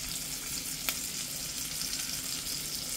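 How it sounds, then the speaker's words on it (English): Pork fries in a scoop of bacon grease, giving a steady, close hiss and sizzle that runs unbroken throughout, with one brief sharp pop near the start. "So we're cooking pork. To add some good flavor into it, I'm going to use a big scoop of bacon grease."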